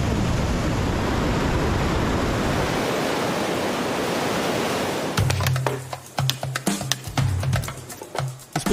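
Rushing water pours steadily as a dense, broadband roar at a waterfall on the upper Rio Negro in the Amazon after a storm, constant for several seconds before giving way to closer thumps and knocks.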